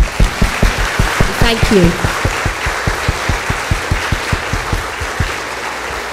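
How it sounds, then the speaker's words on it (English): An audience claps in a steady, rhythmic unison beat after a speaker's university lecture at UMCS in Lublin, with a voice briefly speaking over the clapping partway through. "big round of applause to you"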